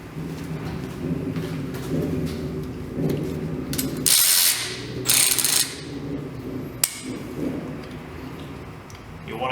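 A hand ratchet tightens intake manifold bolts on a Ford SVT Contour. It gives steady close clicking, broken by a few sharper, brighter bursts of metal noise.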